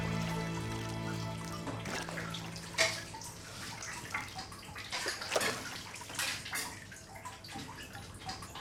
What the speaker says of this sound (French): Le brassage, on fait pendant la fabrication, ça permet de faire égoutter les grains de caillé.